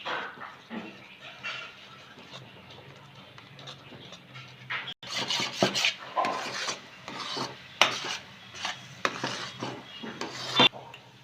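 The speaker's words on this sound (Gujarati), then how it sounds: "એકાદ બે મિનિટ હલાવશું એટલે એકદમ ઘટ થઈ જશે" A spoon stirs and scrapes a thickening rava and mawa barfi mixture in a metal pan, with repeated close scraping and clinking strokes that grow busier and louder toward the end.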